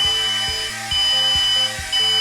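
Steady electronic beeping from the controller of a WLtoys Q282-G FPV micro hexacopter drone repeats in a regular pattern of short tones over a constant high whine, close and fairly loud.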